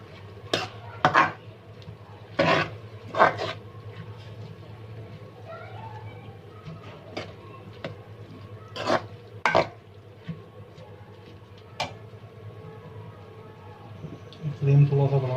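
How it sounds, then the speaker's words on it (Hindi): Chow mein noodles being tossed and mixed in a pan, with a faint background sizzle and scattered sharp clinks and scrapes of a utensil against metal. "इसके बाद ये हम मिक्स करेंगे इसको"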